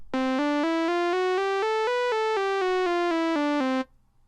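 Arturia Modular-V synthesizer step sequence, fourteen evenly spaced buzzy notes stepping up in pitch and then back down, loud and close, ending abruptly in quiet.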